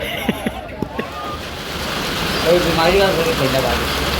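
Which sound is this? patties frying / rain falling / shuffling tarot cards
rain falling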